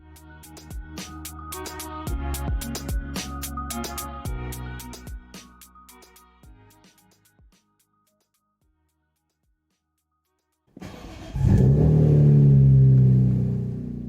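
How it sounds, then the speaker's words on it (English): A BMW S54 naturally aspirated inline-six revs loudly near the end after a silent gap, following earlier rhythmic, music-like sound. "The last ever naturally aspirated inline 6 produced by BMW's motorsport division."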